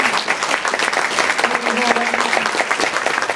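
Steady audience clapping for candidates at a women's league issues and candidates forum, a continuous moderate patter with a voice speaking briefly over it.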